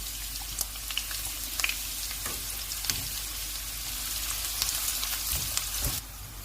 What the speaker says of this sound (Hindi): अभी ऑयल गर्म हो गया, इसमें प्याज डाल देंगे।